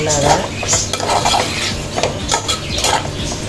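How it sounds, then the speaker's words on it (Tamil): Spoon scraping and stirring masala in a metal pan for ladyfinger egg masala, with close, continuous clatter and rhythmic scrapes and a faint sizzle beneath. "இப்போ எல்லாம் போட்டு நம்ம கிண்டி வச்சுக்கணும்."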